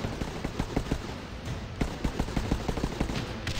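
Rapid overlapping gunfire from a squad focusing fire on a zombie in the mobile game Guns Up!, steady staccato bursts repeating close and continuous with no talking.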